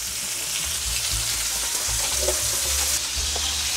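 Rib eye steak sizzling loudly in a pan with garlic and rosemary, a steady close frying crackle with dense spitting fat throughout and no one talking.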